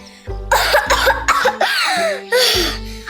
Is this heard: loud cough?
yes